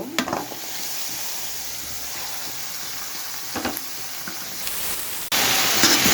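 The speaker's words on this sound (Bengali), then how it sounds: "এখন আমি ভাজিটা দিয়ে বাগার দিয়ে নিব।" Cabbage bhaji with chopped onion, green chili and a little turmeric and chili powder sizzles steadily in a pan, a continuous frying hiss with a few stirring scrapes, growing louder near the end.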